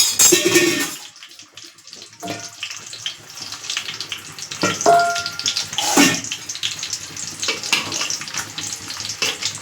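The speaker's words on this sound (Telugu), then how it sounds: "అన్నం ఉడిపోయింది వాష్ చేస్తాను ఇప్పుడు" Water splashes and swishes in a pot in bursts as cooked rice is rinsed and drained, with clinks of a vessel.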